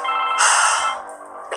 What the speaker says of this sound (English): But Isa, that's my phone